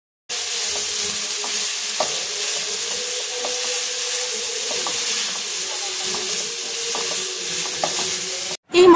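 Onion, ginger paste and garlic paste fry in oil for a chicken and potato curry, a steady bright sizzle with occasional spatula scrapes and taps, close and fairly loud, cutting off abruptly near the end.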